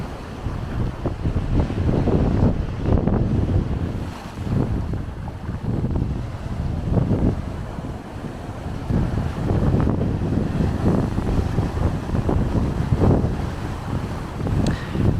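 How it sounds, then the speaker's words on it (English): Strong gusts of wind buffet the microphone in a continuous low roar at a rocky seashore bay in the morning, with surf washing in the background throughout and no talking. "it's a really windy morning down at Saltwick Bay today"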